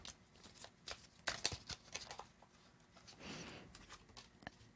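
A deck of cards gets shuffled during a reading, with quick riffling flutters, soft papery snaps and a brief denser riffle, all fairly faint and close.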